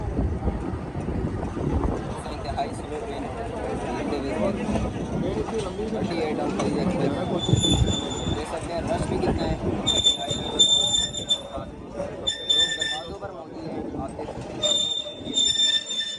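A crowded train in Pakistan crawls very slowly over newly restored track after a major accident, its wheels rumbling loudly and squealing in high, intermittent bursts, with voices talking over the noise.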